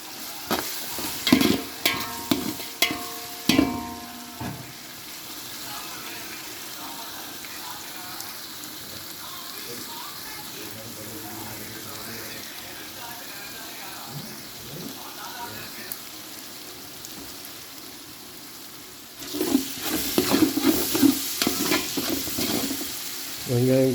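Onions sauté in a pan with a soft steady sizzle, loud bursts of spoon clatter and stirring at the start and again near the end, with a quieter stretch of gentle frying between.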